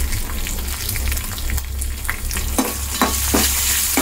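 Cumin seeds, urad dal, dried and green chilies and curry leaves frying in hot oil, a dense close crackling sizzle with stirring, sharp pops breaking through in the second half.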